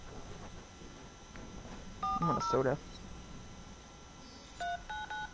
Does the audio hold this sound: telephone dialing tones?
yes